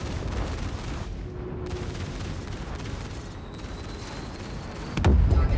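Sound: cannon fire from Anvil F7C Hornet Wildfire in video game Star Citizen

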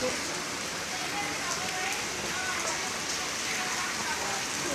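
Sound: rain falling

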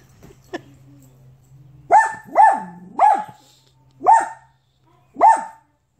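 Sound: Blue Bay Shepherd dog barking at cat

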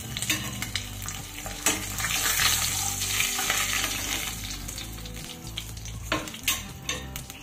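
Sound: frying katla fish pieces in oil

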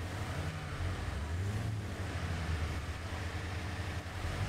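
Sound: off-road vehicle crossing a river ford in video game Expeditions

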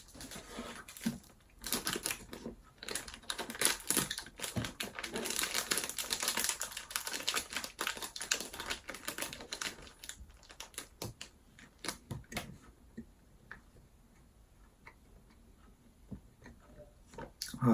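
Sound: plastic snack wrapper crinkling

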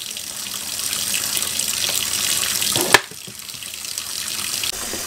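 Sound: sink filling with warm water

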